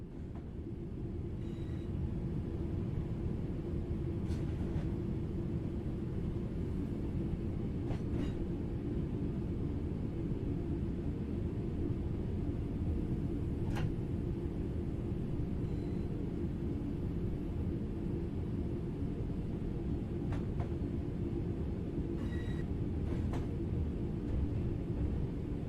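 A train coasts on level track with the throttle at zero in the Train Sim World 4 video game: a quiet, continuous low rolling rumble with a few faint, sparse clicks, and no voices.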